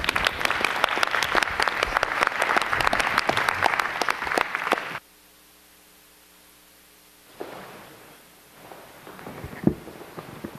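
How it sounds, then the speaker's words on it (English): An audience applauds at an education commission meeting, steady clapping for about five seconds that cuts abruptly to a low hum. Faint rustling and movement follow. "Let's have an applause."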